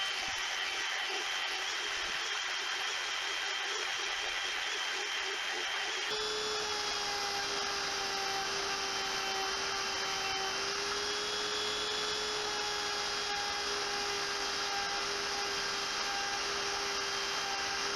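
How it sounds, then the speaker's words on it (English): A CNC router cuts a sycamore inlay panel with a steady high-pitched spindle whine and a rushing hiss that sharpens to a stronger tonal pitch partway through, loud and continuous with no talk. "This design was made with all rounded corners to make it easy to cut on my CNC router"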